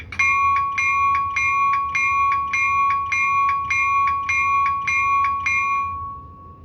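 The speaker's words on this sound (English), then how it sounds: "That's the bell on 8080." A locomotive bell on a Scaletrains SD40 model train, number 8080, rings in a steady, even rhythm of about ten clear metallic strikes, close and loud over a faint low hum.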